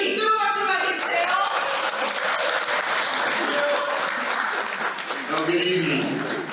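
A large audience at a Seattle Korean community year-end gala gives sustained, dense applause welcoming the association president, steady and loud throughout, with a voice beginning to speak as it winds down.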